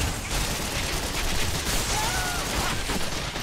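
Dense, continuous rapid gunfire from the shooter Gotham City Impostors: steady overlapping shots at even loudness with no pauses, dominating the scene with no talk over it.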